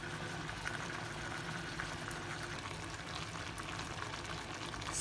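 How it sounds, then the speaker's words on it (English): Chicken pieces saute with tomatoes in a pan for a Thai red curry, giving a steady, even sizzle and bubbling that runs unbroken throughout. "So we're just gonna be frying this, saute the chicken."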